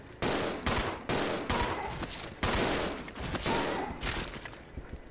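Rapid bursts of gunfire in the Resident Evil 0 video game, loud, close, and sharply repeated for several seconds as overlapping shots and volleys.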